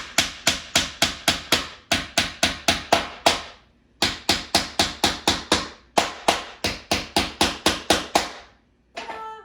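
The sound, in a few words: hammering nails into wooden boards for a porch sign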